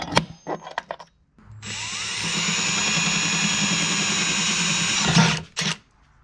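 Power drill boring holes through Genright corner armor for a Jeep JKU, a few short bursts and then a long steady whine near the mic, ending in a brief rattle.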